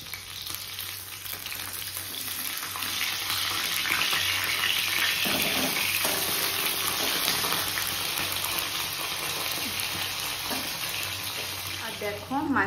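Fish frying in a pan in a home kitchen gives a steady, bright sizzle that runs unbroken throughout, close and fairly loud, with faint stirring and clatter now and then.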